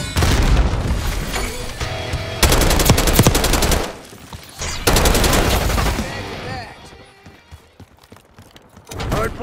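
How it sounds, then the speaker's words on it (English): Gunfire in Call of Duty Black Ops 6 multiplayer, loud rapid automatic bursts and heavy booms close by, in two long volleys separated by a brief lull, with game voice callouts mixed in. "Hostile shooting."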